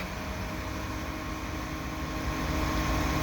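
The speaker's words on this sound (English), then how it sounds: "The barrel is actually turning, so they're pumping concrete from there into this pumper truck." A concrete truck with its barrel turning pumps concrete into a pumper truck at a station construction site, giving a steady, loud mechanical drone with a humming engine tone, unbroken and with no talking.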